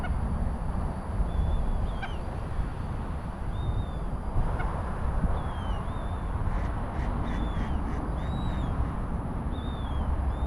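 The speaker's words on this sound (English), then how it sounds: "We got a bird gathering here." A gathering of water birds calls near water, with thin chirps repeating every second or so at a distance over a heavy, constant rush of wind and drone hum.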